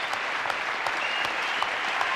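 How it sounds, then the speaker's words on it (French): A TV studio audience applauds Charlie, Lulu and Robert Charlebois, giving a steady, even round of clapping with a few sharper claps standing out, moderately close and without talk. "Applaudissements, mesdames, messieurs, pour Charlie et Lulu et Robert Charlebois."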